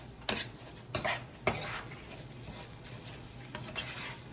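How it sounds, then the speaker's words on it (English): A spoon stirs rice grains through melted butter in a pot, with a few sharp scrapes against the metal near the start and then a soft, steady sizzle and quieter scraping. "Let's coat our rice with our butter."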